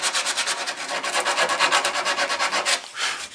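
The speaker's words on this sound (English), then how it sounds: "we can use just a little bit of sandpaper" Sandpaper rubbed back and forth over wood in quick, steady rasping strokes, close and fairly loud with an even rhythm, then a short pause and one more stroke.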